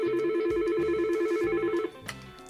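Telephone dialing tones sound in a steady run of sustained keypad beeps while an extension is entered in the 3CX mobile phone app. They stop abruptly near the end, followed by a faint click and quieter tones.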